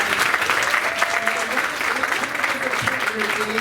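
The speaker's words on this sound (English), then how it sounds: "Can we give them a round of applause?" Audience applause for elected officials at an oratorical contest, a dense, loud wash of clapping that holds steady without pause, with voices murmuring underneath.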